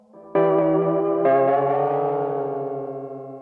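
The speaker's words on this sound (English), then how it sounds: "you hear the tape slowing down" A Roland RE-201 Space Echo tape echo sounds a sustained, reverberant tone whose repeats shift in pitch as the repeat rate changes, with a fresh swell midway that slowly decays, alone and fairly loud.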